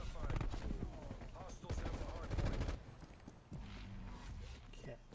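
Rapid gunfire bursts in a Call of Duty match on the Drive-In map, with an EM2 rifle among the weapons, as loud rattling volleys alternate with quieter pauses and footsteps while a player talks over the action.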